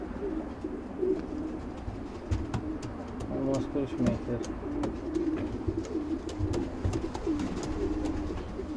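Racing pigeons cooing in a loft, repeated soft throaty coos near the listener with scattered clicks and wing shuffles, while someone speaks briefly.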